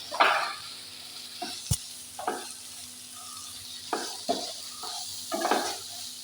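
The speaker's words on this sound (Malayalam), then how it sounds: "ഒരു സ്പൂണ് മല്ലിപ്പൊടി ഇട്ട് കൊടുത്ത് ഒന്ന് നല്ലോണം മിക്സ് ചെയ്യാം" Chicken filling with pepper and coriander powder is stirred in a frying pan, with soft scraping strokes and a quiet sizzle, plus one sharp clink of a utensil, set against a steady low hum.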